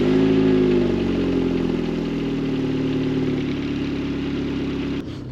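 A VW Mk5 Golf GTI engine runs loud and close, a steady rumbling idle with strong low harmonics that settles slightly lower over a few seconds before a brief knock near the end.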